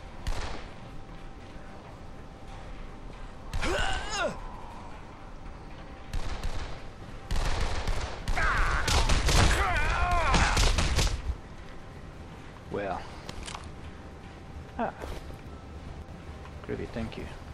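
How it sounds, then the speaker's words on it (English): Sporadic gunshots in Dead Island ring out in scattered clusters, some loud and close, one heavier stretch midway, with someone talking between and over them. "Someone shooting at me or what?"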